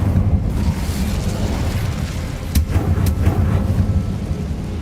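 Incendio fire spell cast in the Hogwarts Legacy video game: a steady, loud roaring rumble that runs throughout, with two sharp cracking bursts near the middle.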